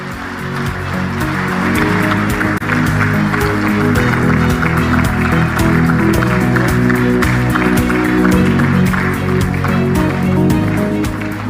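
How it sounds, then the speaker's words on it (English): An audience at an energy summit of African heads of state applauds in a long, dense, continuous roar of clapping that stays loud throughout, with a crowd murmur and music-like tonal hum underneath. "another big round of applause to our host"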